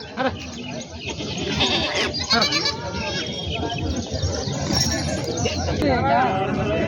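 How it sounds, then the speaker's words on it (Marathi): Gavrani and Kathewadi goats bleat repeatedly amid the busy Hingoli goat market, with a crowd chattering and voices talking throughout. "गावराने आणि काठेवाडी शेळ्या बाजारामध्ये आणलेल्या आहेत"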